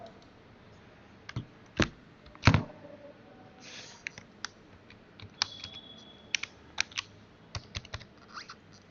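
A password is typed on a computer keyboard, with sparse, irregular key clicks and a few sharper taps, quiet and close in an otherwise silent room.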